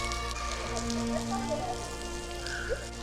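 Steady rain patters densely and evenly on surfaces around the Batu Caves in Malaysia, a continuous close hiss with faint tonal hum beneath and no break across the short span.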